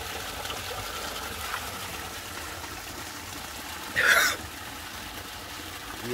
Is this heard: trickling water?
yes